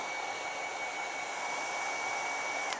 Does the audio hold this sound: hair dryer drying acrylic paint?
yes